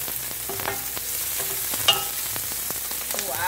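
Onion frying in a hot pan, a soft steady sizzle broken by clinks and scrapes of a utensil stirring, with one sharper knock partway through.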